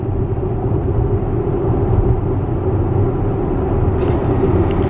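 Inside a moving Tesla on the road, a steady low rumble of tire and road noise fills the cabin at a constant level, with no talk and a faint high tick near the end.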